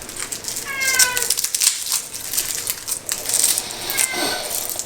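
A kitten meows several times in a home kitchen during cooking, short rising cries around the first and fourth seconds over clattering and background bustle.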